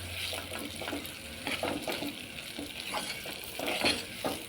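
Small cubes of potato fry in hot oil in a home kitchen, giving a steady close sizzle with occasional stirring scrapes and bubbling bursts, and no voices.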